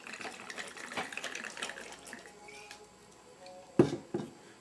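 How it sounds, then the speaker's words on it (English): Tequila poured into a cocktail shaker while making a margarita, a soft running liquid trickle for a few seconds, then two sharp clinks near the end. "In the shaker, we add our tequila."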